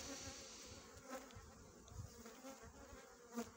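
Honey bees buzz around a hive during colony splitting on a sunny February day, a faint steady drone with individual bees passing close now and then.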